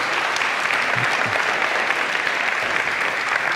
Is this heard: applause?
yes